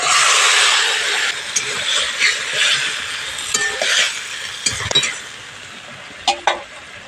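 Boiled Malabar spinach and a fish head drop into frying mustard-spiced masala, a sizzle that starts strong and fades into a quieter hiss broken by sharp clinks and scrapes of a spatula against the pan.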